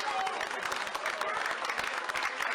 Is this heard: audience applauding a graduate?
yes